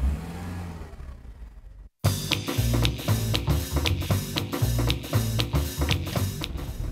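A used car sets off on a test drive: after a quiet cabin, the engine note rises as the car pulls away, with regular ticking clicks from inside and no talk.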